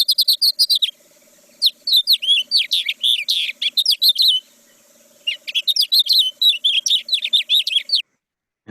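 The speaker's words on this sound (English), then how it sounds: "And this is the house finch." A recorded house finch song plays as long, rapid warbling runs of bright chirps and trills, pausing briefly around the first and fifth seconds, with no talk over it.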